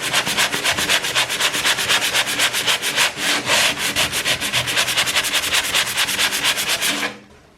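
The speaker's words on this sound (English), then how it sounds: "I think sanding is my new favourite thing." Wood being sanded by hand indoors during house renovation, a brisk, even rhythm of rasping back-and-forth strokes, close and loud for about seven seconds before stopping.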